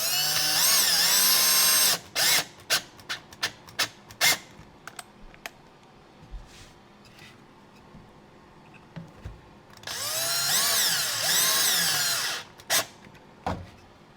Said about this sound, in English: You can do these with a hand screwdriver, or you can do it with the power drill.